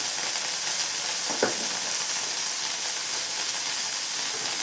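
Coriander leaves sautéing in a pan for chutney, a steady dense sizzle and hiss throughout with one faint clink partway, close and without talking.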